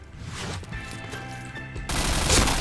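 Gunfire rattles in the online shooter Point Blank: rapid, close bursts of shots over ringing game tones, and then a louder burst of noise near the end, with no voices heard.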